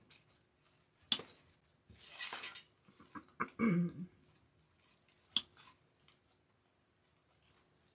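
Scissors snip through the branches of a plant bush in a few sharp, separate cuts close by, with rustling of foliage between them and quiet pauses.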